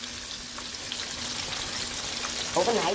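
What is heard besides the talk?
buttermilk-marinated chicken breasts frying in a pan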